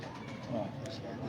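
Pigeons cooing softly in a loft, low murmuring calls running continuously under a voice.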